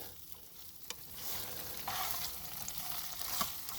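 Meat tossed with green onions and cilantro in a pan for tortas, cooked inside an SUV, a quiet sizzle with a few spatula knocks and scrapes, faint and close, no talking.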